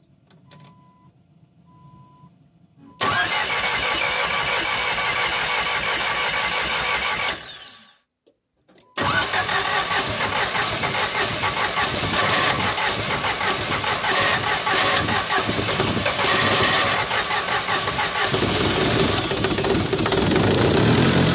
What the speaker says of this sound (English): We got it running here. It's idling pretty smooth.